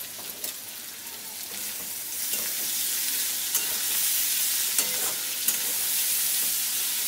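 Potatoes and cauliflower stalks stirred in a pan with turmeric and salt for a Bengali vegetarian dish, giving a steady close sizzle with soft scraping strokes throughout.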